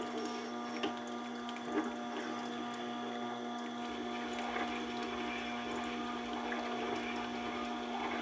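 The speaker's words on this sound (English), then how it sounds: "let's just give it a few passes on that leather wheel" A Tormek sharpener runs its leather honing wheel against a chisel, giving a steady low machine hum with a faint scraping texture and small clicks, quiet and unbroken, with no voices.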